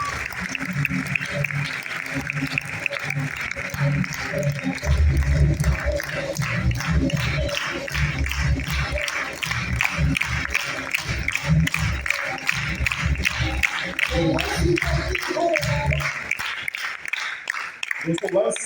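Audience applause fills a business plan presentation hall for a young host, dense clapping sustained for most of the stretch with a voice talking over it throughout.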